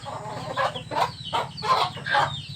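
Hen clucking among chicks on a farm, a run of short, sharp clucks at a steady rhythm over a low background murmur, fairly close and moderately quiet.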